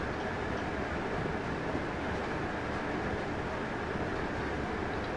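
A Class 321 electric train running at about 100 mph in Train Sim 2019 on the Braintree to Colchester line, a steady rumbling roar of wheels and traction noise, continuous and fairly even with no voices.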